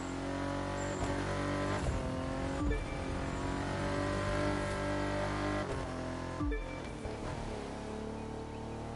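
A W12 car engine in The Crew 2 racing game roars steadily, revving and shifting with brief dips as the car accelerates along a road, loud and continuous with no talk.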